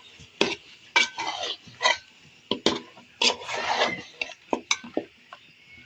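Beef being stirred in a cooking pot: a utensil scrapes and clatters against the pot in about a dozen short, uneven strokes with quiet gaps between, heard close with no talk.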